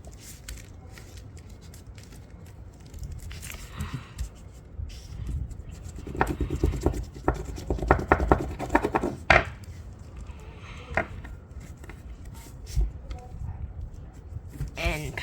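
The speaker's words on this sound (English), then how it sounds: "You can squash fold it next." Paper crinkling and creasing while a paper airplane is squash folded, with quick rustles and sharp crisp crackles near the middle, heard close up under a speaking voice.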